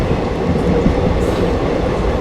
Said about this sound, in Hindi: दोस्तों यह है लिच्छवी एक्सप्रेस,